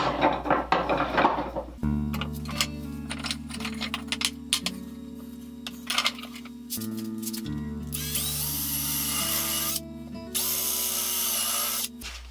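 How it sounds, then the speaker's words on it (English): A power drill whines steadily for several seconds, its pitch shifting as it bites into wood and briefly stops, then runs on continuously, close by. "Now with any luck I should be able to drill this and fasten the two blocks together."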